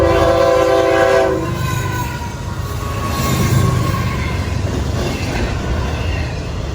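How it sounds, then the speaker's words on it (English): An FEC intermodal freight train, number 202, approaches a railroad crossing at Granada Boulevard. A horn blast opens over a steady rumble of rolling cars and wheels, which stays loud and near throughout. "with the crossing signal at Granada Boulevard activating for northbound train 202"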